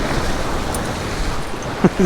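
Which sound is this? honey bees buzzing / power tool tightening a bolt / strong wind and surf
strong wind and surf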